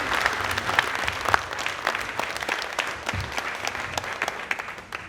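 Audience applause at a Guyanese community awards gala honoring a Brooklyn borough president: steady, moderately loud crowd clapping with sharp individual claps popping out, continuous throughout and tapering slightly at the end.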